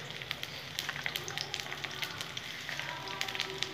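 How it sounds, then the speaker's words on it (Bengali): Brinjal (eggplant) pieces frying in hot oil with green chillies in a home kitchen, a steady dense crackling sizzle with rapid irregular pops, close and moderately loud, no talking. "বেগুনগুলো সুন্দর করে আমি ভেজে নেব"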